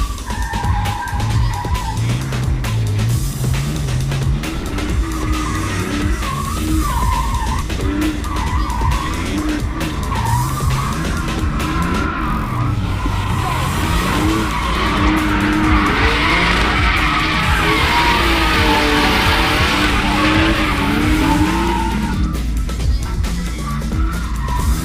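Drift car in a PRO Class drift competition in Toruń, engine roaring loud and continuous with sustained tire squeal and skidding through transitions, close and dominant throughout with no talk.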